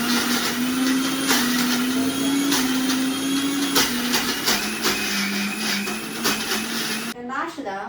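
A mixer grinder runs in a home kitchen while a Mangalorean dish is prepared, giving a loud, steady, high whirring drone that cuts off just before the end.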